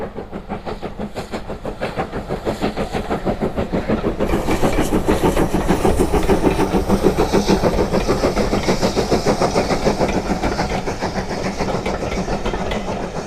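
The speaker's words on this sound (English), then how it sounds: "when it was coming into Norden, the train was going forward, and it shunts and connects onto the other end of the carriages" A Swanage Railway train runs along the line near Norden, close and loud. Its wheels beat out a steady rhythmic clickety-clack over the rails, and the sound swells slightly as the train passes.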